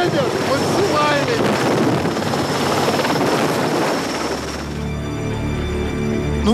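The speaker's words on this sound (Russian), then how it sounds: "самый большой вертолет в мире – Ми-26" Loud, steady roar of a Mi-26 heavy helicopter's rotor with heavy wind buffeting beneath it, continuous throughout, shifting to a lower hum with whining tones near the end.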